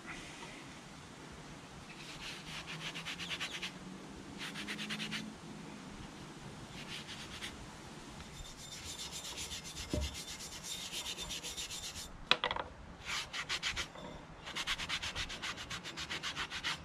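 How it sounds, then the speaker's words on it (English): A wire brush scrubs loose rust off a steel axe head in repeated bursts of scratchy rasping strokes, with short pauses between passes and a few clinks, quiet and close. "give it a bit of a wire brush and see how it looks"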